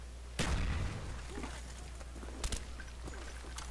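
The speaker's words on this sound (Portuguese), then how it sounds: "Joga a granada lá dentro" Grenade blast in Call of Duty: Black Ops multiplayer: one sharp, loud burst with a rumbling tail, followed later by a second short crack amid background game noise.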